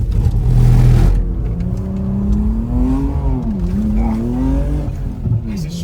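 Audi RS4 B5 sliding sideways with a loud engine and rising, wavering tire squeal, continuous and close, after a brief burst of noise at the start.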